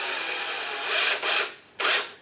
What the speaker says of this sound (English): now we're going to drill very slowly up against the wall right here